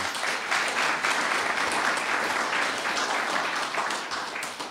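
A crowd applauds steadily at a town State of the Town address in New Milford, Connecticut, a dense wash of clapping that holds for several seconds, then starts to fade at the end.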